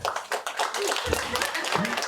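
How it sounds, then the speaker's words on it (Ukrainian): Audience applause during a stand-up comedy show, a short dense burst of clapping with a bit of crowd noise alongside, fairly close and steady. "Давайте під ваші оплески"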